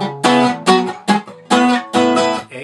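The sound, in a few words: acoustic guitar, a song with bass notes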